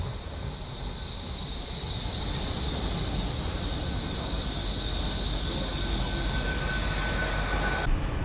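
A train rolls steadily along the rails near the River Severn, a continuous broadband rumble with a sustained high metallic whine from the wheels, holding even and loud throughout with no voices.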